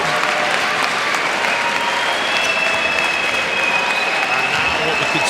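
Delighted crowd at an England versus Brazil men's table tennis team quarter-final bursts into sustained, dense applause after England's comeback win, steady and loud throughout with faint talk mixed in.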